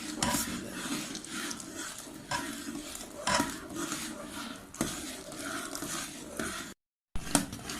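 A spoon scrapes and clinks steadily around a pot as sevai custard is stirred, repeated close metallic strokes with a soft sizzle beneath and a brief silent gap near the end.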